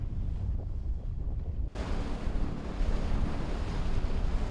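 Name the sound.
strong sea waves off the Gijang coast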